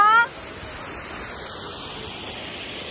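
Steady, even rushing roar of the Gaighat waterfall fills the scene, with a brief voice at the very start before the water noise continues alone.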